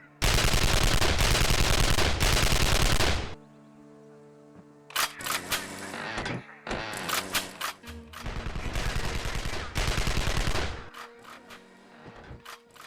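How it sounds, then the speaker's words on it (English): Machine gun fire in the video game Evil Genius: long, dense sustained bursts of rapid automatic shots, loud and close, broken by a short lull and scattered single reports before another heavy burst. "Guns go brr."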